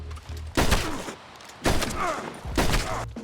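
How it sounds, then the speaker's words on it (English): Three loud gunshots from a shootout in Red Dead Redemption 2, each a sharp blast with a rolling tail, spaced about a second apart, with no talking. "So let's go ahead and start shooting him."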